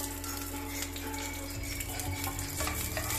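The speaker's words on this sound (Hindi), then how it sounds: "इसको हमें हल्का सा ही फ्राई करना है, बहुत कलर चेंज नहीं करना है इसका।" Diced onion fries lightly in a pan for bhindi do pyaza, a continuous close sizzle with stirring scrapes, the hiss thickening and growing busier about halfway through, no voices.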